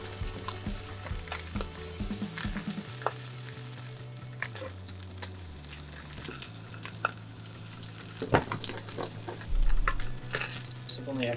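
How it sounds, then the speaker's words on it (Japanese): A fish fillet pan-fried skin side down in oil, a chef's poêlé technique, giving a steady close sizzle and crackle with occasional louder spits and a pan scrape, under faint background hum. "このまま皮目のまま8割ほど火を入れていくと、かなり皮がパリッと仕上がって"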